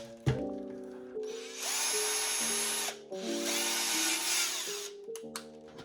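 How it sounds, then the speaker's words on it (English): An electric drill with a 1/4 inch bit whines as its motor spins up, bites into plastic with a rough grinding buzz in two bursts, then winds down between them. "with your 1/4 inch drill bit, we're gonna center it and drill all the way through"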